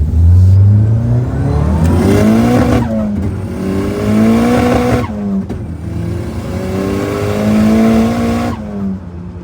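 A 400hp SR20-powered car accelerating hard from first through third gear, its engine roaring up loud and close, with two quick shifts breaking the rising pitch before it climbs again.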